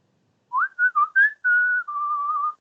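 A person whistles a short, clear melodic phrase of several quick rising and falling notes ending on a longer held tone, close and alone with no talk.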